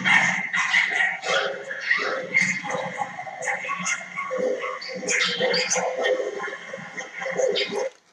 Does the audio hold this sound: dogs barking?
yes